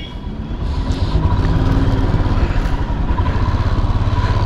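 A motorcycle rides along a highway in Gujarat toward Dholavira, with a steady loud engine drone and wind rush heard up close from the bike, constant throughout.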